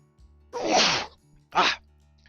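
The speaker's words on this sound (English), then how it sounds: "I gotta sneeze." A man sneezes at close range, a short sharp intake followed by a breathy burst, then a second quick sneeze a moment later, with near silence around both.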